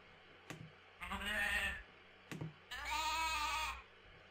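Sheep in a farm video game bleat twice in long wavering calls, each preceded by a short click, loud and clear against a quiet background.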